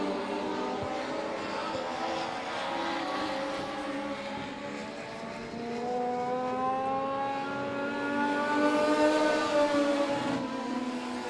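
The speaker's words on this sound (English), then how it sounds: "They're all over the back bumper of Phil Berkey Ball Jr." Race cars at Monett Motor Speedway roar steadily through a feature race, a continuous loud engine drone with rising and falling pitch as cars pass close, several engines layered together, no talk.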